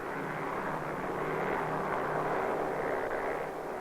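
Special recovery aircraft flying out of Hawaii over the Pacific to snag a parachuting camera capsule, a steady droning engine roar, moderately loud and unchanging throughout, with no voices.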